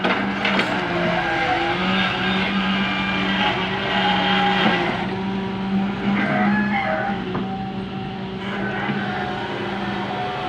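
An old first-generation Hitachi UH04 excavator engine drones steadily and loudly throughout, with a deep rumble and grinding, clanking strain as it works.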